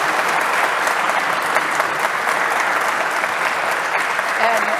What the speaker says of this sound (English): I'd like you to give a round of applause to our three panelists.